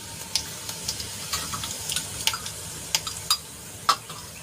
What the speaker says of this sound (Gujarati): તેલ ગરમ થાય એટલે એમાં આપણે અડધી ચમચી જેટલું જીરું એડ કરીશું.